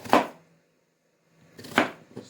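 Two brief bursts of knife chopping, about a second and a half apart, with quiet between them and a faint third tap at the end.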